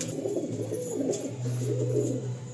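Andhra pigeons, a pure red-headed pair of male and female, coo in soft, low, continuous rolls close by. The calling runs steadily throughout with no voices over it.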